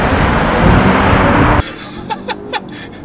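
A Mercedes-Benz S450 and a BMW 740e accelerate in a drag race, with a loud, steady roar for about a second and a half that cuts off abruptly into a quieter stretch broken by a few brief clicks.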